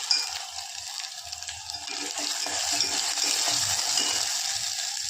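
Onion and a ground paste of cumin, coconut, ginger, garlic and coriander sizzle in a pan for chicken biryani, a steady bright hiss with small spatters and scrapes, close by and without talk.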